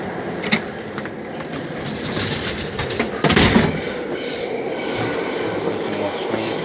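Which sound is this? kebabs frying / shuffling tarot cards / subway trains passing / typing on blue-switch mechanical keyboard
subway trains passing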